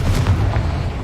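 A Confringo blasting spell goes off in Hogwarts Legacy, a short, loud, deep booming blast with a rumbling low end, heard alone without talk.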